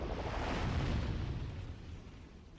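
An exploding fireball bursts in the mines of the video game Demon's Souls, a loud broadband blast with a deep rumbling body that swells early and then slowly fades out, with no talking.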